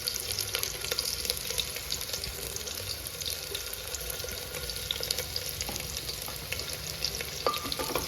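Whole onion stirred in a small pot of simmering dal, giving a steady low sizzle with occasional faint scrapes of a spoon, fairly quiet and continuous with no voices.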